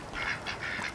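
A domestic duck quacks a few times in quick succession, moderately close but soft, against faint outdoor background noise.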